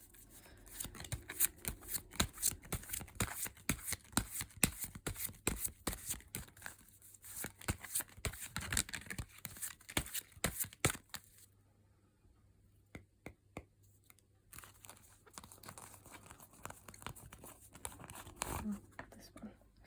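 Fairy oracle cards are shuffled in a steady run of quick riffling, slapping bursts at close range, pausing briefly near the middle before resuming, with occasional speech around it.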